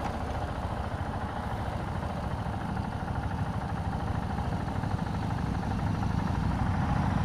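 A 2014 KTM 690 Duke single-cylinder engine runs steadily up close, a rough, chugging low thrum that holds even and slowly swells slightly louder toward the end, with no talking.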